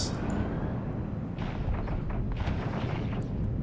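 Weapons fire rumbles through an EVE Online space battle, an Orthrus cruiser engaging Sansha ships: a dense low booming bed with several sharper bursts and impacts in the second half, no speech.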